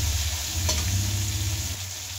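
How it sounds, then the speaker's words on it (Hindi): Mixed vegetables for veg biryani frying in a pan, a steady close sizzle with a brief stir or scrape partway through, no talk. "इसमें सिर्फ ऐसे चार से पाँच मिनट भुनेंगे हम अच्छे से"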